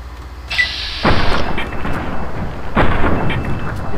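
Two loud, booming gunshots ring out in Fallout: New Vegas about two seconds apart, each with a sharp attack and a long, reverberant rumbling tail.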